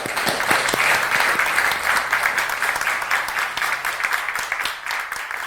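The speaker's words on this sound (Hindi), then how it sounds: "उनके लिए जोरदार तालियां दोस्तों" Loud, sustained applause from a large audience, dense steady clapping filling the whole stretch without pause.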